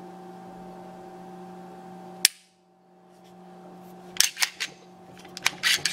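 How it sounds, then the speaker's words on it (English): Dry firing a Ruger American pistol: one sharp, close trigger click breaks a steady background hum, followed a couple of seconds later by a quick run of lighter mechanical clicks. "We'll do a little dry fire here."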